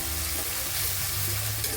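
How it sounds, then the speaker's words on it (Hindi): Ginger garlic paste fries in a pan with a low, continuous sizzle and soft bubbling, steady throughout this short moment with no voices. "अदरक लहसुन देखिए अच्छी तरह भून के हो गया है"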